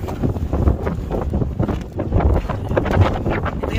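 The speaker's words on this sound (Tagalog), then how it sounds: "Ito yung kalaban natin, yung hangin." Strong wind buffeting the microphone at the Banff Gondola, a continuous rough roar with gusty surges throughout.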